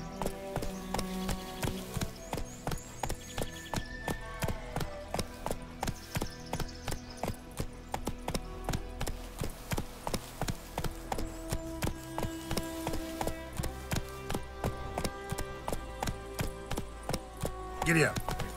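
A horse gallops in The Witcher 3 on PC, its hooves drumming in a fast, steady clip-clop rhythm throughout, layered over tonal game music.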